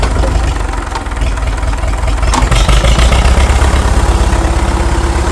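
An International TD-6 crawler's engine runs in diesel mode after being freed from a lock-up, a loud, close, rough idle with steady knocking pulses throughout, no talk.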